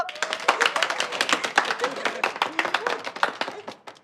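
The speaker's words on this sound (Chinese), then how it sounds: "鼓掌！" A small group in an office claps together to welcome a colleague who has passed a probation period. The claps are dense, quick and close, fading slightly toward the end, with voices mixed in.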